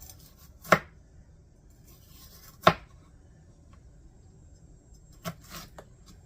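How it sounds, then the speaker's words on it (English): A knife chops a pepper in half on a board: a few sharp, separate cuts spaced a couple of seconds apart, close and crisp over a quiet kitchen background, with no talking. "So I'm gonna chop that in half."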